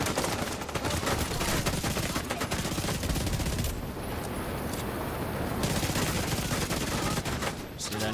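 Rapid pistol gunfire in The Division 2, dense cracking shots fired in fast bursts with short pauses, loud and close, layered over shooter game combat noise.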